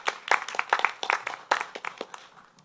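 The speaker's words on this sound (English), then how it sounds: "So perhaps an applause for Ms." A small audience at a school board legislative meeting gives brief applause, sparse and uneven claps from a few people that start strongly and taper off over a couple of seconds.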